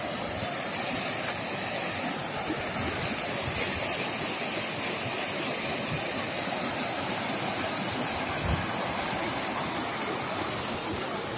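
River water flows steadily at the mouth of the Malyi Kushuhum river near Zaporizhzhia, a constant broadband rushing with no pauses and no voices.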